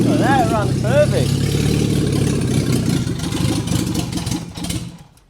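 A DIY M43 turbo engine build runs nearby with a steady low rumble while a person talks over it; the engine keeps humming under the voice throughout.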